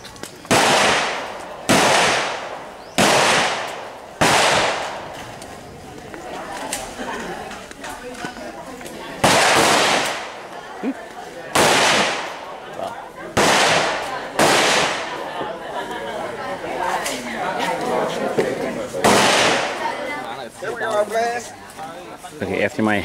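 Gunshots ring out at the Cu Chi Tunnels shooting range in Vietnam: a series of loud, sharp cracks, several in quick succession, then more spaced shots, with people chattering between and under the blasts.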